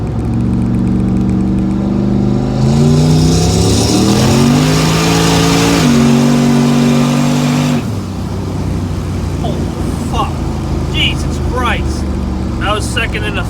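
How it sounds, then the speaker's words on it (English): A turbo-swapped car with a GT45 turbo replaced by a VSR 78/75 cast unit accelerates hard in second gear from a 40 roll. The engine revs climb loudly, shift, then drop off into road noise as a voice speaks over it. "All right, so we'll go second gear from about a 40 roll."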